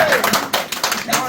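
Brief scattered clapping from a crowd at a political gathering, light irregular claps heard under a voice.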